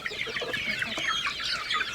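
Hens cluck in a farmyard flock, a close, busy stream of short overlapping clucks and squawks that keep going for the whole two seconds with no talk.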